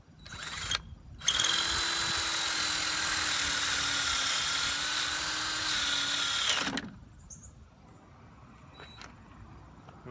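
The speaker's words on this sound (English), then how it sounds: "now I just need to drill the hole for the bolt, making sure this is lined up properly" Power drill boring a bolt hole, running steadily at high speed for about five seconds after a brief start, close and loud, then stopping abruptly into quiet.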